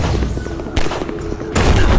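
Booming bursts of explosions and rapid gunfire crackle from a Sonic video game, loud and dense, with a sharp fresh blast near the middle and another toward the end.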